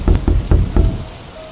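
Heavy rain in a cartoon story effect: a steady wash of rainfall under several loud, dull thumps that come in quick succession before the noise settles.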